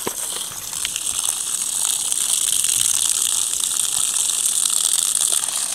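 Water pouring strongly from a spout at a village spring, a steady, bright, hissing rush close to the microphone, continuous and even for several seconds with no voices.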